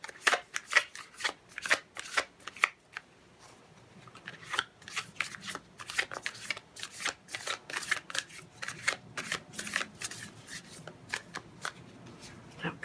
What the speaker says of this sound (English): Shuffle it up a little bit.